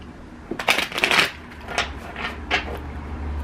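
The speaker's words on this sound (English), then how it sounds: "let me shuffle them again" A deck of cards being shuffled by hand gives several quick riffling, rustling bursts, close and fairly crisp, spaced irregularly with short pauses between them.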